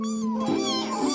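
A cat meows continuously nearby, a drawn-out, wavering tonal cry that rises slightly in pitch partway through, in an animated cartoon.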